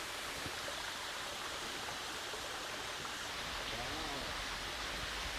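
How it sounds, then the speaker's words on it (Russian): A waterfall on a jeep tour route from Dagomys to Solokhaul pours in a steady, even rush of water that fills the whole stretch. A voice faintly talks beneath the roar. "Водопад очень красивый. очень красивый, нереальный."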